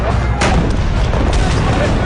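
Heavy military guns of a platoon fire in a loud, continuous barrage of booming shots during a combat training exercise, dense and saturated with no clear gaps.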